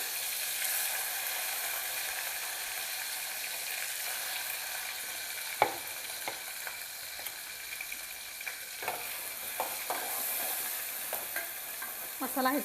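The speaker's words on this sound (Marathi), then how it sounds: "कांदा चांगला ब्राऊन होईपर्यंत परतून घ्यायचं" Onion and masala sauté in oil on low heat for a chicken dish, a soft continuous frying hiss with scattered light spatula scrapes and taps against the pan, fairly quiet throughout.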